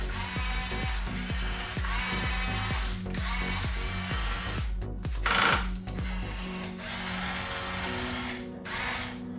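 The small electric motor of a radio-controlled CAT bulldozer lowers the blade, whining in quick repeated pulses and short bursts with brief pauses. A louder burst stands out near the middle.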